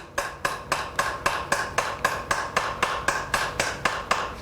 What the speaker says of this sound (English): I'm pushing back with the hammer, and it's really very much like pinching clay.